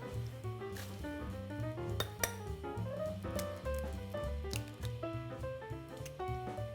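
Two eggs are beaten in a bowl for an egg bath, with quick light clinks and taps of a utensil against the bowl over background music.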